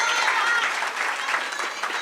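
A graduation day audience applauds, a dense, even wash of many hands clapping at a steady, fairly loud level for the whole short stretch.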